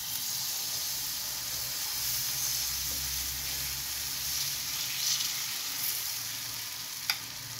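Bread frying in a hot frying pan gives a steady, moderately loud sizzle and hiss throughout, with a faint clink near the end and no one talking.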